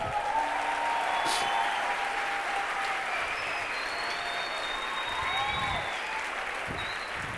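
A church congregation applauds continuously in a large hall, a dense steady wash of clapping at moderate distance with a few whistles and cheers rising above it.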